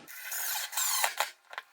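An electric screwdriver whirs with a thin, high motor whine, then breaks into a few short stuttering bursts, close and fairly quiet with no talking.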